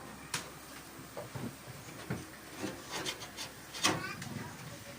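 A power amplifier's metal casing is handled and pried open after its screws are removed, giving a series of close scraping, rubbing and clicking knocks in an irregular rhythm.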